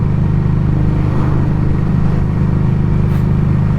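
Street 500 motorcycle cruising in 6th gear at about 3,100 RPM and roughly 48 mph, a steady, dense low engine drone mixed with road and wind rush, continuous and unbroken throughout.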